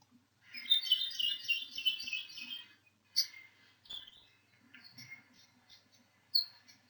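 Call of an endangered native Maui forest bird, likely a honeycreeper: a burst of high chattering trills followed by several short separate chirps and notes, clear and fairly close against a quiet background.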